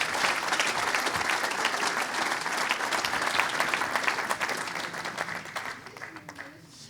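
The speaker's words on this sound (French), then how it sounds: "on peut les applaudir" Conference audience in Rennes applauding a panel of guests, sustained crowd clapping that stays full and even for several seconds before thinning out near the end, with voices faintly mixed in.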